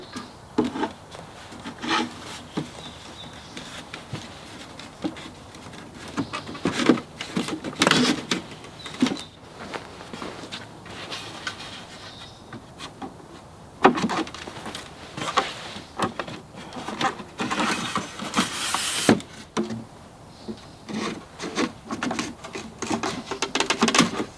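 Cedar garden bed boards notched together during assembly of a raised garden bed, giving repeated close wooden knocks, scrapes and rubbing in irregular bursts with no speech.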